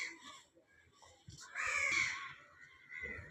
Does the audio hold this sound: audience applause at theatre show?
no